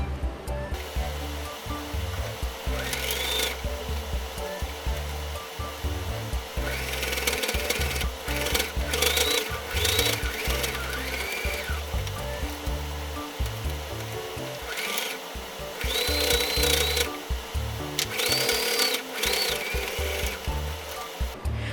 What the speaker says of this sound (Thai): จากนั้นเราก็นำไปเย็บ ขอบทั้งด้านบนแล้วก็ด้านล่างเลยค่ะ